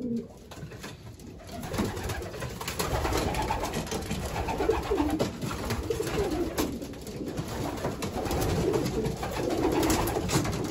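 Racing pigeons coo softly inside a loft, low throaty calls repeating at close range over a rustling, shuffling background, with no talk.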